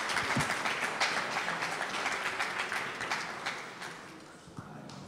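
Audience applause fills a conference hall during a panel session on European security, EU and NATO, a steady broadband clatter of many hands that runs for several seconds and slowly tapers off.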